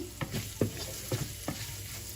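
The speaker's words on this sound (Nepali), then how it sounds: "यसरी राम्रोसँगले चलाइदिने एकछिन।" A spoon scrapes and knocks against a pan in a few irregular strokes while a salted sabudana (tapioca pearl) mixture sizzles softly underneath.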